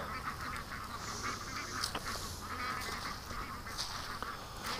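Juvenile ducks chattering and quacking steadily as a group at the end of summer, a constant busy flock sound heard from a short distance with no talking.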